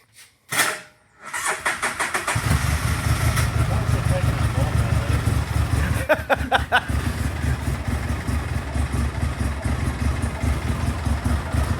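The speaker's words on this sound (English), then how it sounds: "Sounds like a 2-cylinder." A two-cylinder engine cranks briefly and catches, then settles into a steady, close idle with a low, even throb that runs to the end, a short burst of clatter partway through.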